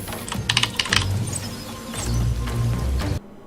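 Rapid keyboard typing in the video game Epistory, clusters of close, crisp key clicks with brief pauses, over a low in-game musical background that cuts off at the end.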